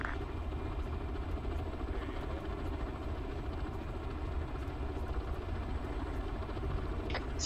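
A CH-53 helicopter drones steadily and loudly throughout, a continuous rotor and engine roar with no break, joined by a few faint higher squeaks near the end.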